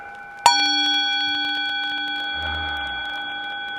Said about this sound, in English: here's the gong